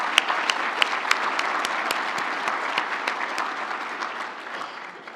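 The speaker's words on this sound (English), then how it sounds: "Let's give each of these supporters a round of applause." An audience at an economic forum gives a round of applause for event supporters: dense, steady clapping from a crowd that gradually thins and fades toward the end.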